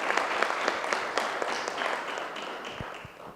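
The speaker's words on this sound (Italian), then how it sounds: "Sì, ci sta l'applauso." Audience applause at a closing event of a youth project in Vittorio Veneto, a steady wash of many hands clapping at moderate volume, fading slightly toward the end, with no talk over it.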